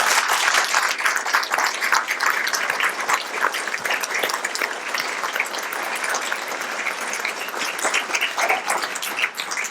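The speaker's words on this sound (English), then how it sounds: "Let's have a big round of applause." Sustained applause from an audience at a school district candidates forum, dense clapping filling the room for nearly ten seconds at a steady, fairly loud level with slight swells.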